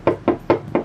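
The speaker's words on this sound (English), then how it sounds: "Always knock 3 times." Three firm knocks on a house door, evenly spaced and close, with no voices.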